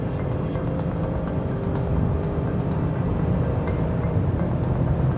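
Constant loud rumble and wind roar inside an Audi RS6 accelerating hard at high speed, a steady dense drone with faint ticking above it and no talk.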